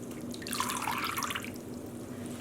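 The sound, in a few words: dye water dripping from wet yarn into basin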